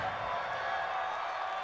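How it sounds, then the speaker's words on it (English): A dense stadium crowd at an NFL game between the New York Jets and Tennessee Titans produces a loud, sustained roar of cheering and shouting, continuous and unbroken. "The crowd's not doing that O-line any favors."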